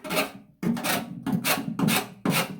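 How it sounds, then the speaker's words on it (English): Paint scraped off a motorcycle fuel tank after a paint-stripping product: five loud, close rasping strokes in a steady rhythm, each separated by a brief pause. "Scrape it back like that."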